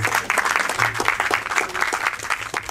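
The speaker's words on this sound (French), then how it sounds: "j'avais demandé beaucoup d'applaudissements pour Jenny" A studio audience breaks into sustained applause, dense, even clapping that continues throughout at close range.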